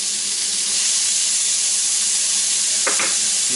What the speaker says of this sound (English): I'm going to throw in 2 cloves of minced garlic.